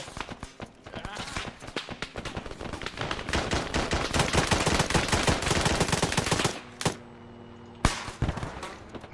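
Dense, rapid gunfire crackles through a multiplayer ARMA 3 military simulation battle, with bursts of automatic fire over several seconds, then a lull and two sharp single shots, as players talk over radio.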